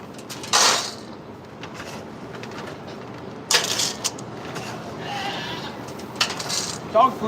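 A goat bleats loudly several times at close range in short, separated calls, with quieter farmyard noise and some talk between them.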